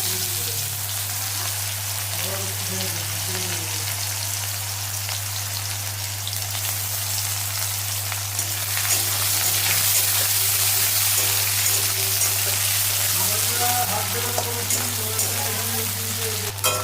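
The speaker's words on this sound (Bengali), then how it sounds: "পেঁয়াজটা ভালো করে ভেজে নিই" Onion fries in oil over tempering spices, making a steady close crackle and patter like rain that runs throughout over a low constant hum.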